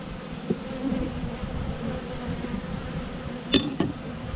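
Honey bees buzzing in a steady, dense drone around an opened hive during an inspection, with a couple of brief knocks and clinks from the hive boxes.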